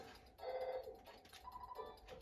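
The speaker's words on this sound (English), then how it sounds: "The phone is ringing." A chiming telephone ring in the retro video game EarthBound, two electronic bursts of tone separated by a short pause, fairly quiet and heard alone without talk.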